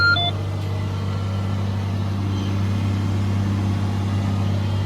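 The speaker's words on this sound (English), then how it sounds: "So the applicator's working away now so far." A tractor engine drones steadily up close while a baler with an applicator works behind it, a constant low hum with faint mechanical rattling and no voices.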